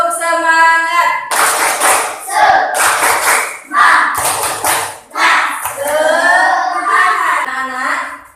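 A class of primary school children doing a rhythmic spirit clap with their teacher, bursts of patterned clapping mixed with chanting voices, loud and close in a classroom.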